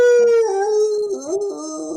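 Studio audience at a sports comedy talk show imitating dogs, a sustained crowd howl with bark-like yips, loud and close, rising and wavering for two seconds without speech.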